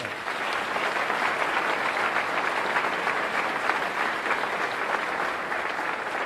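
An audience at the Milwaukee State of the City Address gives a round of applause for churches, a dense, even clapping that carries on throughout without any talk.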